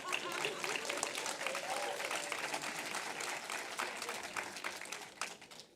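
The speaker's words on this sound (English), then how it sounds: "Okay, let's clap now." Audience applause fills a graduation ceremony hall at the Los Angeles Film School, a steady dense wash of many hands clapping throughout, with faint voices mixed underneath.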